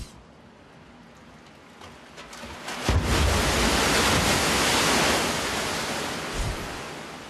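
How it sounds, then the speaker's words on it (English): An artificial tsunami wave from a large wave-generating machine, which pushes 300 cubic meters of water down a 180-meter chute, builds into a loud, continuous roaring rush of water that swells and then slowly fades. "This machine can generate waves more than 3 meters high, propelling 300 cubic meters of water down a 180-meter long chute"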